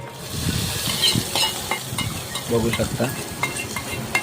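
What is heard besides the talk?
tempering spices crackling in hot oil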